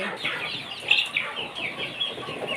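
Several native country hens cluck and murmur softly indoors in their coop, with a brief louder squawk near the middle, fairly close and calm.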